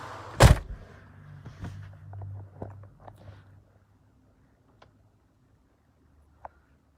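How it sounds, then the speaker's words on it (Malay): Car door of a Mercedes S600 Pullman V12 limousine shutting with one loud, solid thud near the start, followed by soft interior rustles, small clicks and then near silence inside the cabin. "Kita tutup satu pintu dan kita tutup pintu yang ini pula sekarang."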